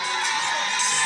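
Crowd at a Friday early-evening college softball game between Arkansas and Mississippi State in Biloxi, a steady bright wash of cheering and shouting voices, loud and continuous for a brief moment.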